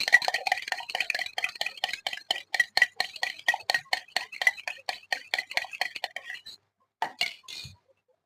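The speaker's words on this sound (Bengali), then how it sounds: "ভালো করে ফেটিয়ে নেব" An egg is beaten with salt using a spoon in a bowl, a rapid run of close, sharp metallic clinks in a steady rhythm that stops near the end, followed by a couple of final taps, with no talking.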